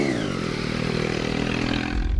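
Triumph Daytona 675 sport motorcycle being ridden, a loud, steady engine drone with a rising harmonic whine held for the whole stretch, close and unaccompanied by talk.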